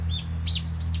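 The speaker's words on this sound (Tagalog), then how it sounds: "Ang daming ibon dito." Several birds chirp in short bright bursts over a low steady hum, the calls overlapping and close by.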